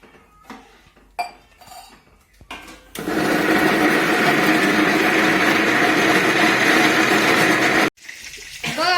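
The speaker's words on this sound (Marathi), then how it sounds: "हा मसाला एकदम बारीक काढून घ्यायचा आहे मिक्सर मधून" A kitchen mixer grinder grinding masala to a fine paste whirs loudly and steadily for about five seconds, then cuts off abruptly. Brief clinks and handling noises come before it and just after it stops.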